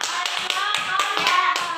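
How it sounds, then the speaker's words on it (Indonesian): Children in an Indonesian primary classroom clap hands together in a quick rhythmic pattern, roughly four claps a second, bright and close, with faint children's voices mixed underneath. "Tepuk tangan dulu teman-teman."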